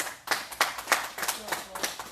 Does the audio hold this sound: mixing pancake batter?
no